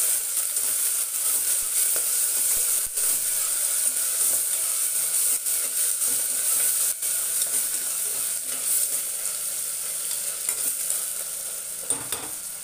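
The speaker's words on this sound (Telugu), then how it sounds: "అవి కొంచెం వేగనివ్వాలండి." Onions and green chillies frying in a pan for a moong dal and tomato curry, a steady close sizzle with occasional stirring scrapes throughout, no talk.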